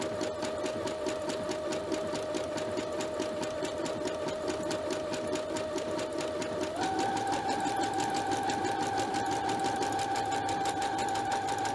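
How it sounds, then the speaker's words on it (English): A sewing machine runs steadily while stitching a zigzag buttonhole with straight stitches and bar tacks, its motor whirring evenly throughout and rising slightly in pitch partway through. "Go up the other side, straight stitch, bar tack the front, zigzag the side,"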